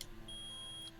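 A single electronic beep from the Ace Attorney game, a thin steady high tone lasting under a second, clean and alone against a quiet background.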